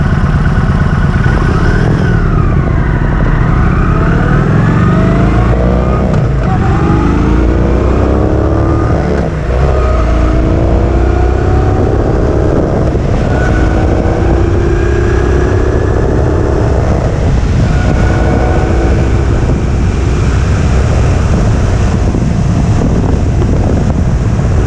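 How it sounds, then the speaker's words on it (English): A Kawasaki Vulcan 900 motorcycle accelerating through its gears, engine pitch climbing then dropping at each shift several times, loud and close under heavy wind rush, with no talk. "Listen to the sound of the engine."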